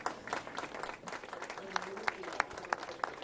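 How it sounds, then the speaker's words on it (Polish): A crowd gathered for Pope Francis's meeting with migrants at Hal Far, Malta, applauds a gift exchange: steady, fairly distant clapping with a few sharper nearby claps, under a speaking voice. "Na co wszyscy zebrani reagują oklaskami"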